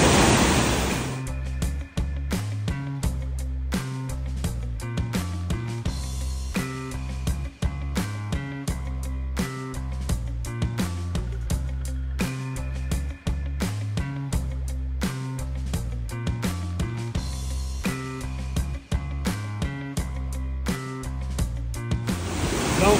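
Delaware Falls in Ricketts Glen State Park roars steadily, a loud, continuous wash of falling water heard up close with no break and no voices.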